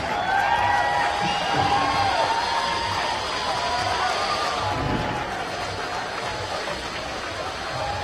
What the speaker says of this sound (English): Will you give a massive round of applause to your champions, the Brydens Sydney Uni Flames